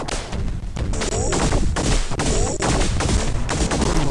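Dense gunfire and impacts from the X-Men 2: Clone Wars video game, with continuous loud crashes and shots layered together over several seconds and no voices.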